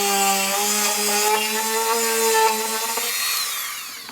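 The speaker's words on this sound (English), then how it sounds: "I'm going to drill a hole" A Dremel hobby drill whines steadily as it bores a hole, a sustained high-pitched motor tone with slight pitch wobble that eases off toward the end.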